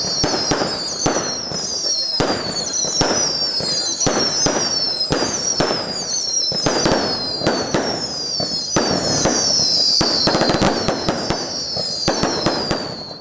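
Castle-style fireworks burst in a rapid, continuous barrage of loud cracks and bangs during a festival welcoming the Virgin of Loreto in Montaverner, with whistling rockets climbing overhead and crowd voices under the explosions.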